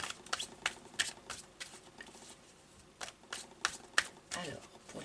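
Tarot cards being shuffled by hand in repeated quick riffling bursts with soft flicks in between, close and moderately quiet, with a voice speaking briefly over part of it.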